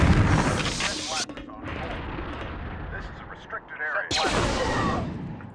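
Gunfire in the Jedi Knight video game: loud booming blasts fill the opening second, drop to a rumbling stretch with scattered shots, then erupt again near the end, with a voice talking over it.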